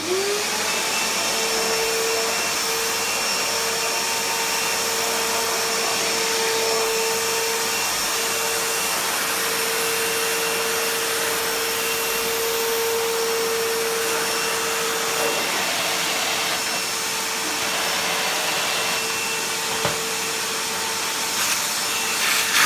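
Stanley FatMax 35 litre wet/dry vacuum sucking flour off carpet, a loud continuous roaring whine with a steady tone that holds for the whole stretch, pitch dipping slightly as the nozzle moves.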